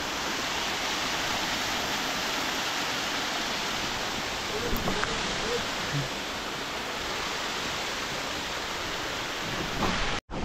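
A forest waterfall thunders down from high above, a steady broadband roar filling the scene, with faint murmurs of voices briefly under it.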